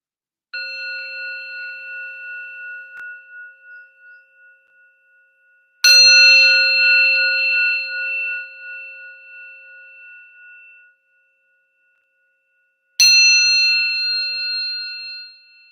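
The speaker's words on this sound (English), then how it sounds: "let's close with the sound of the bell" A meeting bell or chime rings out three times in a quiet room to close a morning drop-in group session. Each clear, bright strike rings on and slowly fades before the next.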